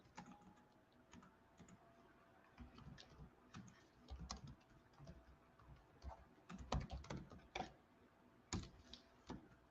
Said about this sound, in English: I'm just typing this guy's name so you guys can see as I'm reading.